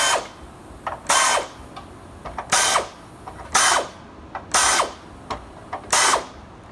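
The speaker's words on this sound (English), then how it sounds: "So I got my little chamfer tool. Just load that up. Got some 80/20 that needs to be chamfered." Chamfer tool mounted on a FlexArm working the end of 80/20 aluminium extrusion, five sharp grinding bursts in a regular rhythm with small clicks between them, close and loud.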